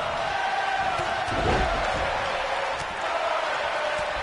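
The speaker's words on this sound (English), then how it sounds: "This crowd still chanting Sami Zayn's theme song" A large video-game wrestling crowd in WWE 2K19 roars and chants a wrestler's theme song steadily in a big arena, the noise dense and continuous with a brief swell midway.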